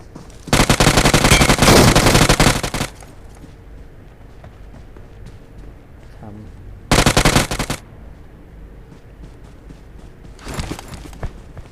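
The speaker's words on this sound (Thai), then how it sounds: "น่าจะมีเพื่อนเขาอยู่ข้างหน้านะได้ยินเสียงปืน" Rapid bursts of automatic gunfire in PUBG Mobile erupt three times, loud and sharp, separated by quieter stretches of low game ambience and faint footsteps.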